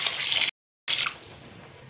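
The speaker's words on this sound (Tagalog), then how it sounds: "Ayan po, lagyan na natin ng tubig." Water is poured into a pot of rice and sweet potato, a steady splashing pour that breaks off briefly and then resumes, fading into a softer trickle.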